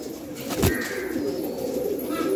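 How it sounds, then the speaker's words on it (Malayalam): Mail pigeons coo inside a loft in Kerala, one soft, low, throaty coo close by, with a faint murmur of other birds and room ambience behind it. "ഇത് മെയിൽപ്രാവാണ് കേട്ടോ."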